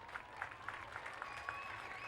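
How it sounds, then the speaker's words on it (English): A high school football crowd at a 2009 Weslaco East vs Edcouch-Elsa game applauds an injured player walking off the field: steady, moderately distant clapping from the stands with no talk over it. "Let's give him a nice round of applause."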